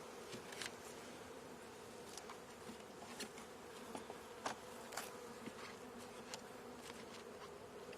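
Honey bees buzz steadily around an open hive during a swarm-season inspection, a continuous close drone with individual bees zipping past the ear, no one talking.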